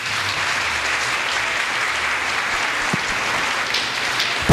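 A church congregation at a feast of Saint Clara claps together in steady, dense applause that holds evenly throughout without pause.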